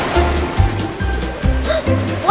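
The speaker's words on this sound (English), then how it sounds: "Watch out for that giant wave." Cartoon ocean waves surge and rush as a swell rolls in, a loud, continuous watery roar with rhythmic low pulses, alone without talking.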